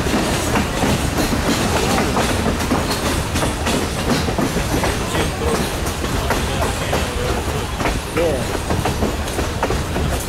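Great Smoky Mountain Railroad diesel train heard from on board during the ride, a loud, steady rumble with continuous rail clatter and rattling, while people talk over it.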